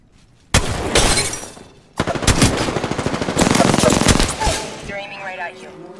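Loud rapid automatic gunfire rattles in two close bursts during an Apex Legends match, followed by a short stretch of voice.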